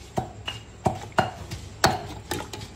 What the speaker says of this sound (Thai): เดี๋ยวจะตำน้ำพริกกะปิ